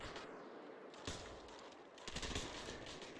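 Dense gunfire from bot players in the VR shooter Population: ONE, a steady barrage of overlapping shots and bursts at moderate distance with no pauses.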